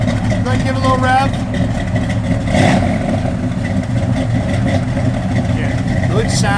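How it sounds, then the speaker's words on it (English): A 1972 Dodge Demon engine idles steadily with low rumbling and gives a brief rev in the middle, heard close by with people talking over it. "Go ahead and give it a little rev."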